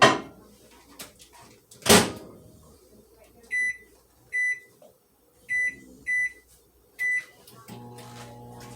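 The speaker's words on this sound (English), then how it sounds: "put it in the microwave for 10 minutes" A few clunks and a microwave oven door thump, then a series of five sharp electronic beeps in an uneven rhythm, ending with the low steady hum of the microwave running.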